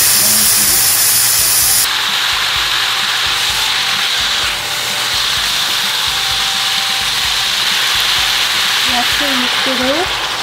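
Meat frying in a pan while making stir-fried gosari (bracken fern) with a little salt: a steady, loud broadband sizzle and hiss running throughout, with a few faint clinks near the end.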